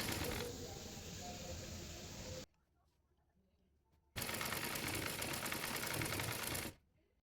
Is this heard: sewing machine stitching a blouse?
yes